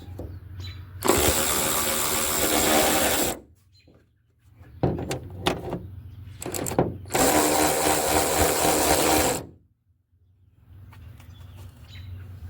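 Power ratchet loosening bolts on a 2001-05 Kia Rio: two long, loud whirring bursts separated by short clicks and clanks, close by, with no speech.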